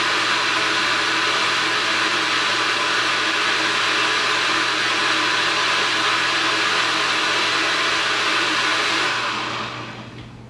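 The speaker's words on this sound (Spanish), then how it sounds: "Despacio empezamos a licuar." A kitchen blender runs steadily, blending tomato sauce ingredients with a pinch of salt, a dense whirring roar held for about nine seconds before it winds down and cuts off, with no talking.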